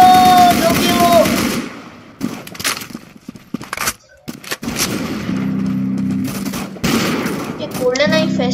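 Gunfire in the Roblox shooter Arsenal, loud bursts and rapid repeated shots scattered across the clip, mixed with game sounds and short tonal effects, with a voice talking over parts of it.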